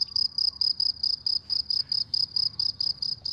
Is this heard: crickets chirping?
yes